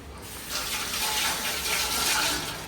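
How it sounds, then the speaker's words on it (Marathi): Water runs steadily from a tap into a cooking pot being rinsed in a home kitchen, a continuous splashing gush with no talk. "हे भांडं आहे ना हे धुवून ठेवून देऊया"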